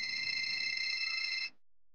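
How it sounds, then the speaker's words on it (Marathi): A phone rings with an incoming call during a Marathi TV serial scene: one steady, bright electronic ring tone lasting about a second and a half, then it cuts off into silence. "एक मिनिट मी फोन आला."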